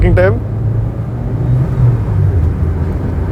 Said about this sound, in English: So I'll just start in second gear, full on the throttle,